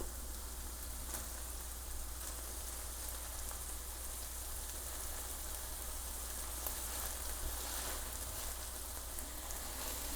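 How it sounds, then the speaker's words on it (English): Hot grease sizzling and crackling in a skillet as it drains from browned ground meat, a steady fine hiss at moderate level with no talking. "I'm going to drain some of the grease."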